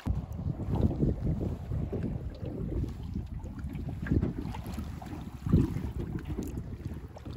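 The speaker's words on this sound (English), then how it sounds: "We are now 30 minutes on the canoe" Canoe paddling on a clear lake in Sweden, with low rumbling water and hull noise, irregular dipping swishes and steady wind buffeting the microphone throughout, a stronger splash-like surge near the end.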